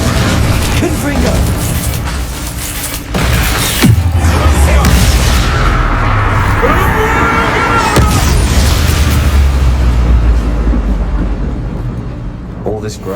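Confringo fire spells exploding in the Hogwarts Legacy video game, with loud booming blasts and bangs over a dense rumbling game soundscape, a few sharp impacts standing out across the stretch.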